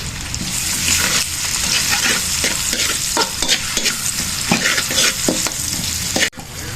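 Onions and tomato paste sauté in a hot pan for beef caldereta, with a loud steady sizzle and the scrape of stirring throughout.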